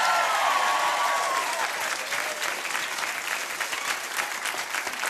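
A television studio audience bursts into sustained, full applause for a late-night monologue, loud and close at first and then settling into steady clapping with some cheering mixed in.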